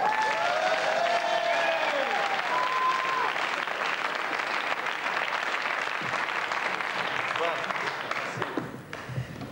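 Cabaret audience breaks into dense, sustained applause for a singer, a voice speaking over the first seconds before the clapping tapers off near the end.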